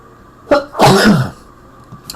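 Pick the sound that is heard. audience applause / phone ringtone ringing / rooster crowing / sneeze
sneeze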